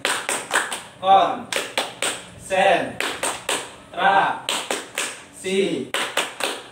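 A group of women claps a concentration clap game in steady rhythmic bursts of sharp claps, each followed by a short chanted phrase. The voices and clapping alternate loudly and close by.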